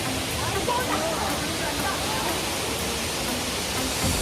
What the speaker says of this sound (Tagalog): So ito pala yung hidden falls.